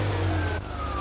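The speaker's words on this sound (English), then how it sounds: "with fuel injection, it's up and running the instant you turn the key." A Ferrari 348 engine with fuel injection running just after being started, a steady close engine roar with a slight dip midway, heard alone in a very short burst.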